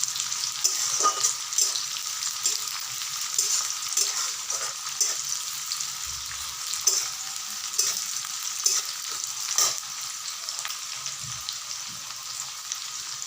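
Sliced onions frying lightly in a pan of oil, a steady near sizzle broken by regular soft stirring knocks and scrapes, with no voices.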